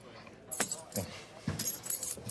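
Several short bright metallic jingles, like car keys jangling, come in bursts close by, with a voice talking between them.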